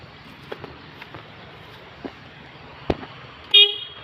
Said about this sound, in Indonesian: kita coba untuk hidupkan klaksonnya